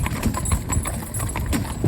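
Close, steady clip-clop of a horse's hooves on a road, a regular rhythmic patter under faint rumbling background noise.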